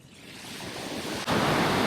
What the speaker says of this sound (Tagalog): Kalmado, medyo okay yung dagat. Hindi ganun kalakas yung alon.